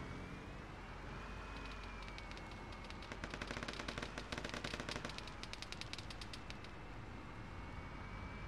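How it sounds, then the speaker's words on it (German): Automatic gunfire in the ARMA 3 video game, on an Altis Life server, rattles in quick bursts through the middle of the stretch. The shots sound distant and fairly faint over a steady background hum. "Hier wird ja scharf geschossen."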